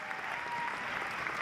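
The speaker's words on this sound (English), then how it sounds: "Please give one more round of applause to Caleb and the saxophones." An audience at a school winter band concert claps in a sustained, even burst of applause, dense and steady from start to finish, heard from within the hall.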